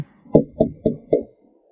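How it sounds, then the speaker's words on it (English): Four firm knocks on a door, evenly spaced and close, loud and sharp against silence. "so I knocked again."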